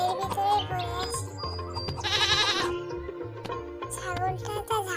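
A cartoon goat bleats repeatedly over a busy animated soundtrack, with wavering cries rising and falling across the scene alongside music and effects.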